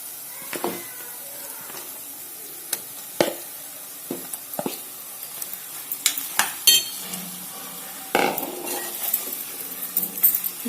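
Soaked chicken pieces go into a pan of frying fenugreek leaves and get stirred, with scattered spatula scrapes and clinks against the pan over a soft, steady sizzle, close and moderately loud, no talking.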